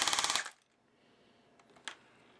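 A Valken airsoft battle rifle on full auto fires a rapid, evenly spaced burst of about eight loud, close shots, then cuts off into near silence with a few faint clicks and a small tap.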